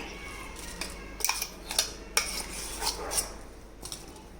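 Green peas coarsely crushed for pea bhajiya, giving a run of sharp, irregular clinks and knocks, close and fairly loud, like a utensil striking a metal vessel, with no talking.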